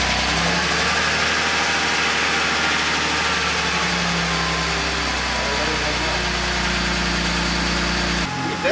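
A BMW 325i engine idles steadily right after new headers were installed, still muffled by the stock muffler, a low continuous rumble with a steady hum that holds at the same level throughout before cutting off abruptly at the end.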